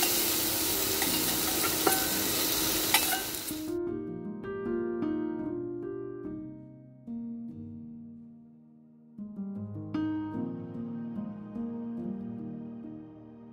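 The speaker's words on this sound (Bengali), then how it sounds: "এবার আমি সবকিছু ভালো করে ভেজে নেব।" Prawns and ivy gourd sizzle loudly in a hot pan with scraping stirs for a few seconds, then the frying fades to a much quieter background.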